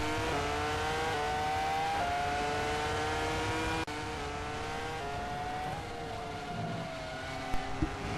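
An onboard race car engine screams at high revs into turn one, a loud sustained whine with a sharp gear change midway and a brief dip before climbing again, no voices.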